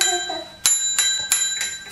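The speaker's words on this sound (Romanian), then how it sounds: "Soneria." The bell on a DYU D3 electric bike rings in four sharp metallic dings at roughly even intervals, close and clear, after a brief voice at the start.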